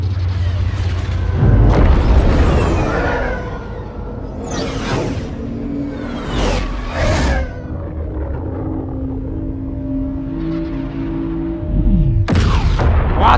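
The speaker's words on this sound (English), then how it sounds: "What an explosion!" A huge explosion from the Star Wars Battlefront II prologue at the Death Star staging ground on Andor: deep booms and rumbling blasts with whooshes, then a sustained low hum and one more loud burst at the end.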